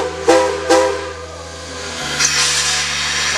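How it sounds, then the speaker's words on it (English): Steam locomotive 643 works a train up a grade and gives two sharp exhaust chuffs, then a long roaring hiss of steam over a constant low drone, all loud and close. "Enjoy this clip of 643 digging into the grade, featuring some pretty cool wheel slip action."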